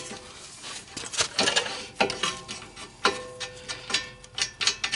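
A ratchet wrench clicking in uneven bursts as a bolt is tightened on the front brake of a 2008 Honda CR-V, loud and close, with metallic rattles between strokes.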